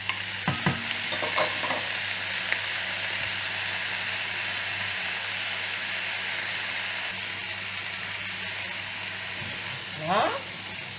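Mushrooms sizzling and frying in a hot pan, a continuous close crackling hiss with occasional scrapes and clacks of stirring, steady and without speech.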